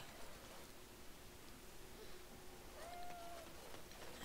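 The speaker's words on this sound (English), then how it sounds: "I hear a cat." A cat meowing once in the video game Dragon Age: Awakening, a short faint mew heard over a soft rain-like background hiss.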